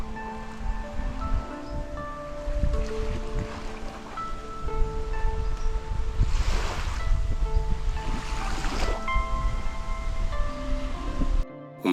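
Sea waves of the rising tide wash onto a beach on Ko Chang island, a steady surf hiss with two stronger breaking surges, set against sustained tonal background music.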